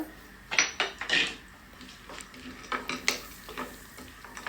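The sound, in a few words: raisins and cashews frying in ghee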